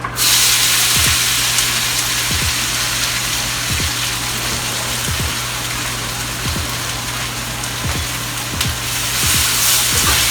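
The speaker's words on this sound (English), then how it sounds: "We're just going to get a nice little stir a real quick fry on them, give them some color." Pepper steak pieces quick-fried in a pan, giving a steady close sizzle with occasional soft clinks of stirring throughout, no talking.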